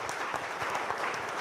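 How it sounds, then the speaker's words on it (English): An audience bursts into steady applause at the grand finale of a corporate quiz championship, a dense, even clapping that fills the whole short moment without a break. "a deserved applause should go out to a very young challenger"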